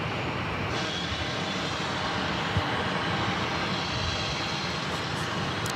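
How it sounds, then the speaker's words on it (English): An American Airlines jet takes off for Miami at Phoenix Sky Harbor airport, a loud, continuous broadband engine roar that holds steady throughout with no voices. "This flight is going to be taking off to Miami,"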